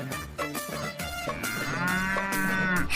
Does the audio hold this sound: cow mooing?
yes